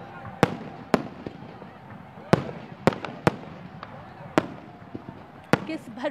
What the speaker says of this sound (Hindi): मीनार पाकिस्तान से आप देख सकते हैं आतिशबाजी के ये खूबसूरत मनाजिर।